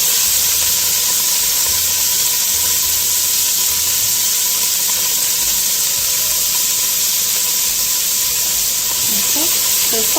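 An onion goes into a hot pot on the stove and sizzles with a steady, loud hiss that fills the whole stretch, with faint kitchen clatter near the end.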